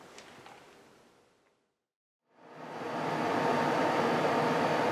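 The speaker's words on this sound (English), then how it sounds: "Excuse the fan noise, I've got the AC running." A workshop air conditioning fan runs with a steady broadband whoosh that fades out, drops to near silence for a moment, then returns louder and holds steady.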